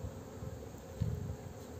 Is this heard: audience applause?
no